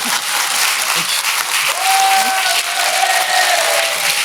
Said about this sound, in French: C'est très très rare que le public applaudisse cette phrase.